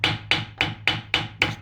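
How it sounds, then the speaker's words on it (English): A hammer taps around an MDS solenoid in an engine, six sharp metallic strikes at a steady, even rhythm, close and fairly loud with nothing else audible. "take a hammer"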